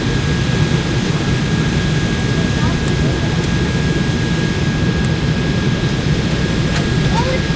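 Inside the cabin of an American Airlines passenger jet on landing approach, a loud steady roar of engine and airflow noise fills the space, broad and constant, with no speech.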